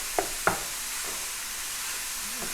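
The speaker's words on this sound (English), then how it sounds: "you can kind of hear it frying again" Finely chopped mushroom stems and sausage fry in a pan with a steady, soft sizzle, broken near the start by two sharp taps of a utensil stirring the mix.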